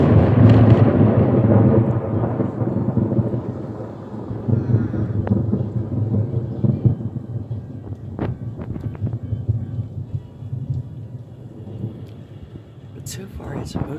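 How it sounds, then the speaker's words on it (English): A thunderstorm delivers a heavy rolling thunderclap that fades into a long rumble, with rain and wind buffeting the microphone and a few sharp crackles near the end. "Like, we're getting rain, but it's not like heavy downpour."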